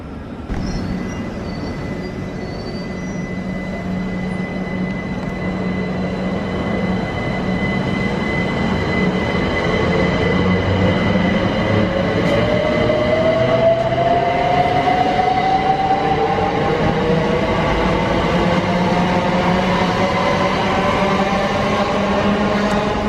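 A non-stopping eight-coach passenger train runs through Ealing Broadway station, a loud, continuous rumble of wheels and traction close by, with a rising whine and faint squeal building over the passage.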